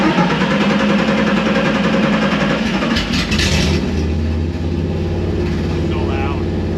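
A 1974 VW Bus fitted with a Subaru engine cranks and catches, then settles into a loud, steady idle with a low rumble, close by.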